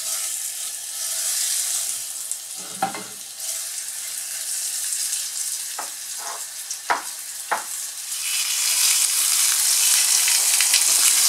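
Mutton pieces sear in a hot pot for Cuban fricassee, a steady bright sizzle punctuated by several sharp clinks and spits as the meat is laid in, with the frying swelling louder toward the end.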